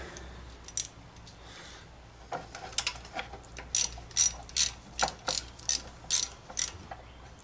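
Close ratchet clicking as bolts are tightened during repair of a Dixon 72 ZTR mower, starting with a few scattered clicks and then settling into a run of evenly spaced, sharp strokes.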